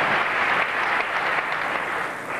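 A live crowd at the 2001 European three-cushion billiards championship final in Madrid claps for a carom shot, a dense, steady round of applause sustained throughout.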